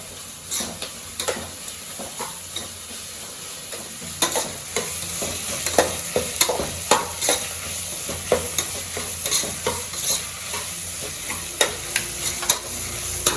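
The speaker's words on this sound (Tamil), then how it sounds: "இப்போ இஞ்சி பூண்டு பேஸ்ட் போட்டுக்கலாம்." Ginger garlic paste sizzles and fries in ghee in a pan, with steady crackling and repeated stirring scrapes throughout, close and fairly loud, no talking.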